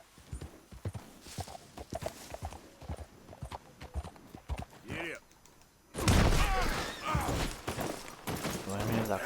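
A horse gallops with rapid clip-clop hoofbeats in Red Dead Redemption 2, the hooves growing loud and close in the later half, preceded by talking and other game sounds.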